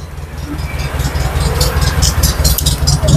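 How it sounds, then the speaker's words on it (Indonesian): Suzuki Carry minibus engine idling during a running test, fitted with a somewhat loud aftermarket exhaust; a steady, close low rumble with rattly pulses that holds and builds slightly throughout. "tes lagi mesinnya untuk unit yang ketiga. Sama ya, mesinnya pada tokcer teman-teman."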